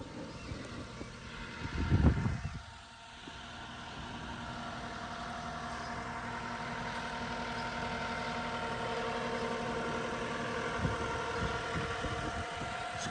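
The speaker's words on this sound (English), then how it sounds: "Skid loader comes in really handy." A skid loader clearing lilac bushes: its diesel engine runs at a steady idle-like drone from start to finish, with a brief louder surge and clatter near the start and occasional knocks later.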